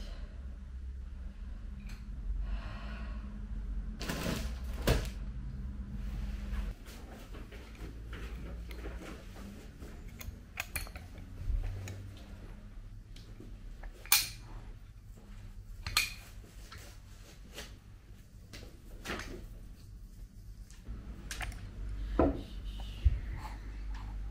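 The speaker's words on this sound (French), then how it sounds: "J'ai fini d'emballer mon petit colis." A small parcel is packed by hand indoors, with scattered taps, rustles, sliding and knocking noises from handling the box and wrapping, fairly quiet and close, with no talking.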